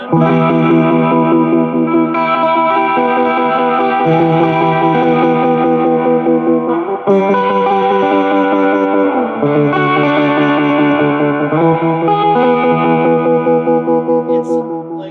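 Electric guitar played through a 1968 Ampeg Jupiter B-22x amp with reverb switched on, ringing sustained chords with a washy, echoing tail, loud and continuous throughout with changes every few seconds and no talking.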